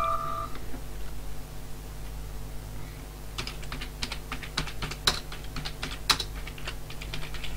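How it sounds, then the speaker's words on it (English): Buttons pressed on a computer keyboard, a run of sharp clicky keystrokes in irregular bursts over a steady low hum, close and fairly crisp. "I'm keeping in these noises of me pressing buttons on my keyboard because it sounds all sort of mid-90s"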